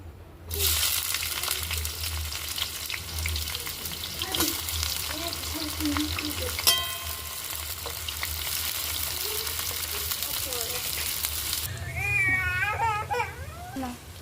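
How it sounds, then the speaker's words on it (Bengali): Chopped onion hits hot oil in a pan, setting off a loud, steady broadband sizzle that carries on for about eleven seconds before softening, with a stirring clatter partway through and a child's crying or babbling heard toward the end. "এবার পেঁয়াজ কুচি দিয়ে দেবো।"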